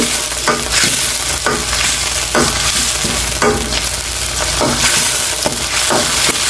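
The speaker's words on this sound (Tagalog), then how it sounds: "So, gisahin lang muna natin." Tuna being sautéed in a hot pan, a loud continuous sizzle and crackle with repeated scraping strokes of a spatula every second or so, close and dense, with no one speaking.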